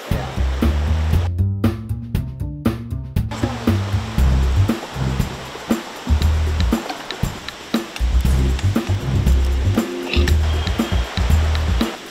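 A large river in a forest area flows with a loud, steady broadband rush, like a waterfall or strong current, sustained throughout with brief lower rumbling swells in the opening seconds; no talking.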